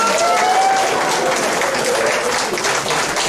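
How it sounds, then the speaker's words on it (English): A crowd at a senior-class party hypnotist show gives a loud, continuous round of applause that fills the whole short stretch. "A nice big round of applause."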